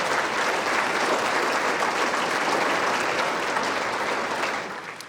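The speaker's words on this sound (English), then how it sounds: "Give yourselves a big round of applause." Sustained applause from a fundraising dinner audience fills the room steadily and densely, then tapers off near the end.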